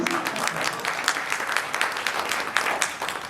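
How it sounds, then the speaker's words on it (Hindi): A crowd applauds at an Urdu-Hindi shayari recital: dense, steady clapping that fills the room for a few seconds, with brief swells and no one talking over it. "तो आप भी ताली बजाते थे।"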